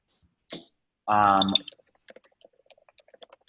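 A short burst of speech-like sound gives way to a run of quick, light clicks, irregular keyboard typing heard close up and fairly faint.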